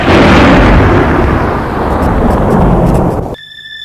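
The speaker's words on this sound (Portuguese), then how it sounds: "do céu claro, ouviram o som de um trovão" A loud thunderclap rumbles and roars broadly for over three seconds, then cuts off abruptly, leaving a faint tonal hum behind.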